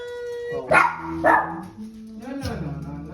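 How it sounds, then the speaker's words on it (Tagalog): A dog gives a few sharp barks and a whining yelp close by, with a voice speaking between them. "Mocha, huwag magtahol ng tahol."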